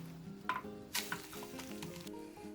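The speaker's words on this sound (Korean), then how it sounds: "남은 계란 한두 개 풀어 얇게 붙여주세요" A thin layer of beaten egg sizzling steadily in a frying pan for omelette strips for gimbap, with a few soft stirring or scraping touches, close and fairly quiet, and no talking.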